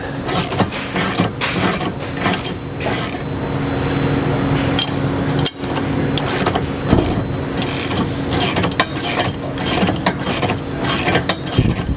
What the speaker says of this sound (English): We're holding the bolt head on one side and then ratchet on the other side.